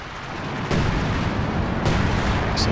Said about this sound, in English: So much artillery, the Allies are overwhelming the Axis through the centre